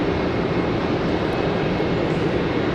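Spirit Airlines jet rolling for departure on runway 18 center at Charlotte Douglas, a continuous, even engine roar, fairly loud and unbroken, with no talking.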